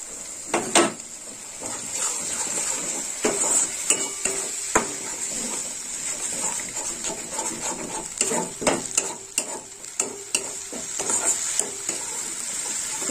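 Ground tomato paste goes into a pan already holding red chilli powder, for a paneer and katla fish curry, with a soft sizzle broken by frequent clinks and scrapes of a spoon against the pan.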